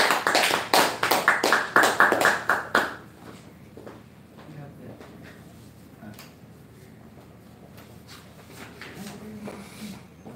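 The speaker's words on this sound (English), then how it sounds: "Can you give a round of applause?" Round of applause at a Toastmasters club meeting, a quick run of sharp, close claps for about three seconds, then quiet room sounds with faint shuffling and taps.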